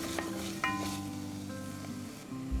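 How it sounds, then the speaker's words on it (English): Tomato paste is stirred into cabbage roll filling in a hot pan. Quiet scraping and stirring sit over a soft, steady sizzle in a short run of kitchen noise. "Next, we're going to add 2 tablespoons of tomato paste. Also stir in to combine."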